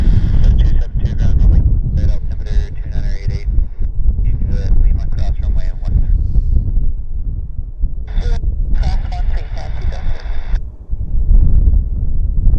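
Strong gusting wind at Vancouver Airport buffets the microphone with a loud, continuous low rumble, while brief tonal whines drift in and out above it.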